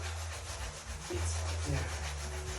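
Bathroom tile being scrubbed by hand, a continuous close rasping rub with a steady back-and-forth texture over a low background hum.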